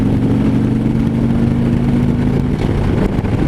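A 2015 Harley-Davidson FLHTP motorcycle with a 103 high-output engine rumbles steadily while riding, a loud, continuous low drone with a constant engine hum and wind rush throughout.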